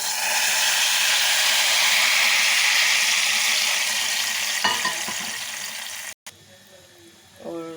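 Onions browning in hot oil for an Indian tadka, a loud, steady, broadband sizzle that fades slightly before a brief cut and some clattering stirring at the end.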